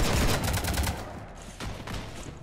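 A rapid volley of automatic gunfire in Mass Effect 3 hammers against a ship, with tightly packed shots at first, then a short lull before scattered bursts resume, loud and close.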